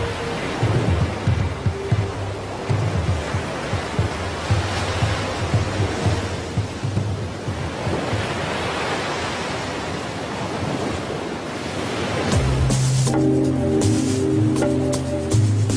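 Heavy surf breaks again and again against a rusting shipwreck on the Tunisian coast, a steady loud wash of crashing waves, joined near the end by a deeper low rumble.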